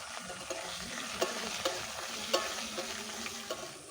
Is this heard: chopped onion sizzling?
yes